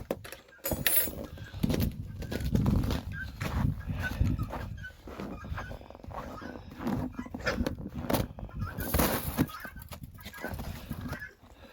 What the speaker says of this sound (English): All the birdies out here again.